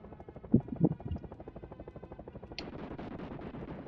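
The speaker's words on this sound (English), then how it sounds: "So that's a helicopter we're going to be fighting at the end of this level." Rhythmic thudding of helicopter rotor blades in a Jurassic Park video game, steady and pulsing, with a few heavier booms early on and a sharp metallic hit partway through.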